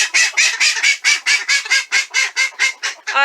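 Rapid, loud honking calls from geese and ducks, about a dozen in a steady rhythm, close by with no talking.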